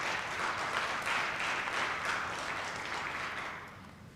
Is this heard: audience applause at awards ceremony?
yes